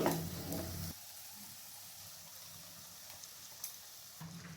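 Homemade tomato paste poured into a hot frying pan for matar paneer curry: a loud sizzle and stirring that drops abruptly into a quieter, steady simmering hiss, with a faint clink or two.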